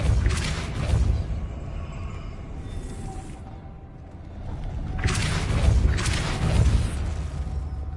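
Depulso spell cast in Hogwarts Legacy, heard as two swelling magical whooshes with deep booming impacts, the second blast longer and heavier, set against a low ambient game rumble.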